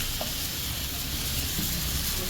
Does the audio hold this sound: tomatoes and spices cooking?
yes